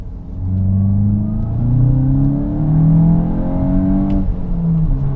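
Volkswagen Golf Mk8 GTI with a six-speed manual accelerating hard, the engine note rising steadily through the revs, dipping briefly at a shift, then climbing again, loud and close from inside the car.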